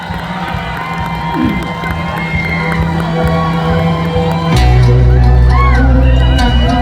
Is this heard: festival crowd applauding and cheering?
yes